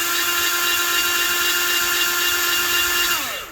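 A light-duty power tool spins a valve seat cutter without pressure on a 2008 Acura MDX cylinder head, a steady high-pitched whine held close and loud, then winding down as the motor stops at the end.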